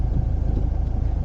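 A car engine, driven by a learner pulling away in first gear, rumbles steadily at close range with a low, even drone and no talk over it.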